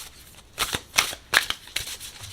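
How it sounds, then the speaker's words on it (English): Tarot cards shuffled in several short, crisp bursts spaced about half a second apart, close and fairly quiet. "so let's go ahead and shuffle"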